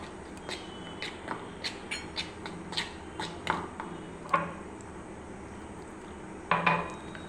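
A spoon clinks and scrapes against a metal bowl in a steady rhythm while stirring mashed mango mixture with turmeric and a splash of water for mango chops, with a few louder knocks near the end.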